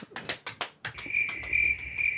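A crickets-chirping sound effect plays as a steady, high, continuous trill after a few short clicks, fairly soft and with no talking over it.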